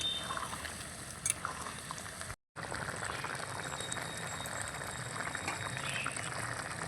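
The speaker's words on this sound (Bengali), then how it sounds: "তাই দিয়ে দিচ্ছি 1 বাটি দুধ" Hot milk poured into a simmering paneer gravy in a pan, a steady close gurgling and splashing rush that runs for several seconds, broken by one brief silent gap, with no talking.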